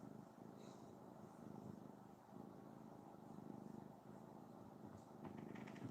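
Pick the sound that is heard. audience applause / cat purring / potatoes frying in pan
cat purring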